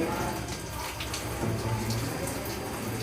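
Water poured from a dipper to rinse splashes steadily and fairly close, a continuous wash of water with no pauses.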